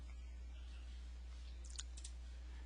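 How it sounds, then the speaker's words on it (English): Two quick, faint computer mouse clicks in an office software session, close and crisp over a low steady hum, with no talking. "We'll click save."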